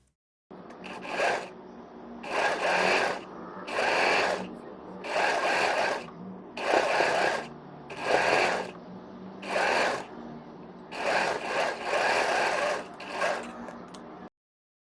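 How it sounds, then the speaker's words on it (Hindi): Sewing machine stitching a kurti armhole in about eight short whirring bursts separated by brief pauses, close and clear with no talk. "पूरे आर्म होल में हम सिलाई लगा लेंगे"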